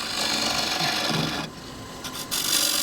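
A wood turning tool cuts along a spinning workpiece, peeling off long pigtail-like shavings with a steady, close, rough scraping hiss that briefly drops away mid-pass before resuming.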